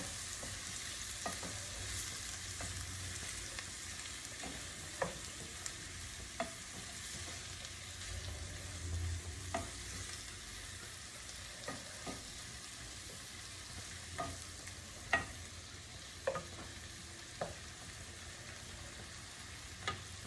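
Shrimp cooking in a pan with tomato, a soft steady sizzle with occasional stirring clicks and scrapes spaced through, quiet and close, with no talking.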